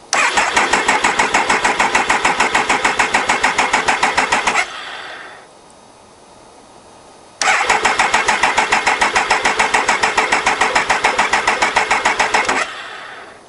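A 2001 Triumph Tiger 955i motorcycle cranks on its starter with the clutch pulled in, giving two long, loud, steady whirring bursts of several seconds each, separated by a short quiet pause.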